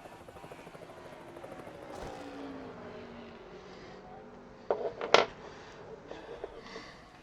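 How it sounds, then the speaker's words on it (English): Race trucks lapping Lucas Oil Raceway's short track in a Truck Series race, a droning engine roar with passing whines and a sharp louder burst midway. "So that's the sights and sounds of Truck Series racing from Lucas Oil Raceway."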